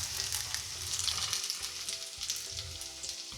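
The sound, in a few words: potato pancakes frying in a pan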